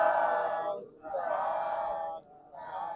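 A gathered audience at a Buddhist sermon calls out a drawn-out sadhu acclamation in unison, three sustained chanted swells with short pauses between them, loud and reverberant.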